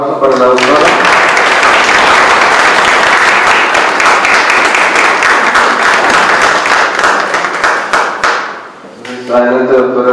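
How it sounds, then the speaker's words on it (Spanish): A conference audience claps loudly and continuously for a lecturer, the applause close and full, fading near the end as a speaker's voice returns. "les pido por favor un fuerte aplauso para la doctora"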